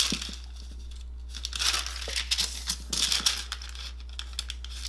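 Parchment paper crinkles and rustles in short bursts while being handled during a 3D-flower shadow box craft, with scattered soft taps and crackles at close range and no talking.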